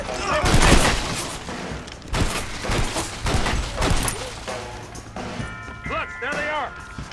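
Rapid bursts of gunfire from a gun in the Western video game Red Dead Redemption, several loud cracks early on with shouted voices and game sounds mixed in throughout.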